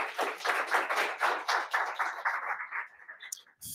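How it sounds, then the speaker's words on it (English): Audience applause rings out at a tech meetup, a burst of many hands clapping that stays fairly loud, then thins and fades out over a few seconds, with no talking. "at the cue of applause"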